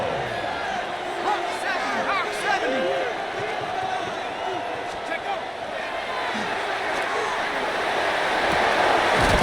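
A stadium crowd in the Madden 26 football video game roars continuously ahead of a third down, rising slightly in volume toward the end, with distant whistles and chatter in the mix.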